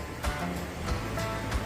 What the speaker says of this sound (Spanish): Este creemos que es el río Gatu.